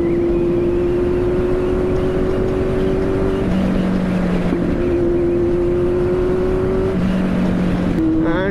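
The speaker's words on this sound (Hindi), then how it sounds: "एंड स्लिप ऑन एग्जॉस्ट भी इसका चिंगाड़े मार रहा है एकदम।" A Kawasaki Z800 with a slip-on exhaust cruises on a highway, its engine a loud, close droning tone that repeatedly climbs in pitch through the gears, with brief dips at each shift.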